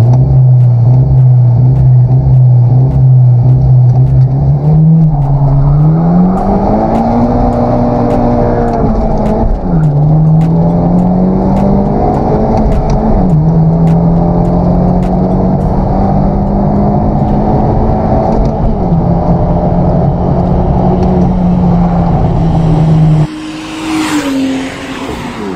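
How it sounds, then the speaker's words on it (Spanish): A Genesis Coupé 2.0T launching in a drag race, its loud turbo engine droning close and steady as it climbs through several gear shifts, each rising note dipping briefly before climbing again, ending in a lift-off near the finish. "si por la emoción le aceleré más duro en la arrancada"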